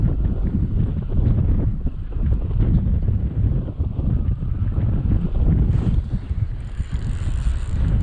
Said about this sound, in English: this wind, bro